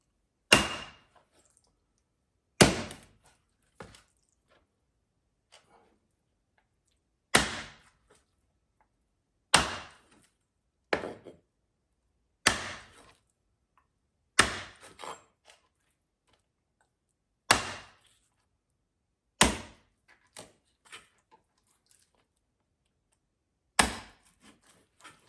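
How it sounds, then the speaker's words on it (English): A knife chops fried rattlesnake, bones left in, into bite-sized sections on a cutting board: about ten sharp, isolated knocks at irregular intervals, each followed by a faint smaller tap, with quiet between strikes. "We're just going to cut it into bite-sized sections."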